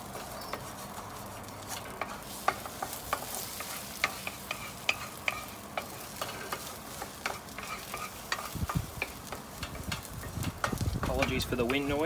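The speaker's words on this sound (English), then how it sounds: "Making an omelette, and we'll scramble them up for fried rice." Eggs scrambled and frying on a Weber Spirit II E320 side burner outdoors, a steady sizzle with repeated sharp scraping and stirring clicks from a utensil, and wind rumble rising toward the end.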